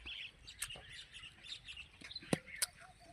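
Small birds chirp in a garden plant nursery, with scattered bright tweets and a couple of sharp, louder calls near the end over a faint background murmur.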